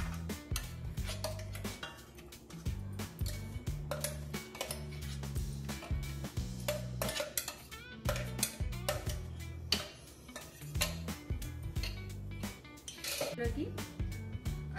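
Ground chana dal batter for crispy masala vada being transferred into a bowl, with repeated close clinks and scrapes of utensils against dishes in a steady, busy rhythm.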